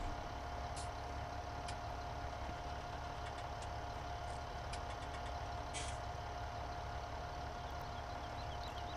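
A steady, low machine drone of combine harvesters working a field in Farming Simulator 17 hums continuously, with a few faint clicks and ticks on top and no talking.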